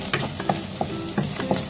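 Fish fries in oil for paksiw, a close sizzle under repeated clinks and scrapes of a utensil stirring in the pan, irregular taps over a steady frying hiss, with no talking.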